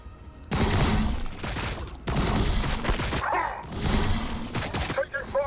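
Sustained bursts of gunfire and explosive booms in the Warhammer 40,000: Battlesector turn-based battle with Genestealer Broods, loud and dense, broken by a couple of brief gaps.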